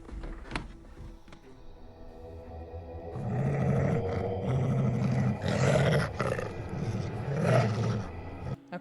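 Deep monster growls built as creature sound effects, a quiet opening then from about three seconds several loud, rumbling roars in sequence, close and sustained with snarling texture, no voices.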